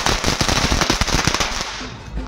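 Firecrackers bursting during Mahalaya celebrations, a loud continuous crackling string of rapid pops filling the air for a couple of seconds, close by.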